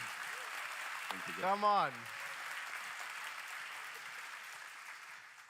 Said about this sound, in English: You get like a rock star clap when you come in.